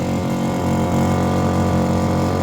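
Small boat's outboard motor running steadily at close range, a continuous mid-pitched engine drone with a faint buzzing vibration and no voices over it.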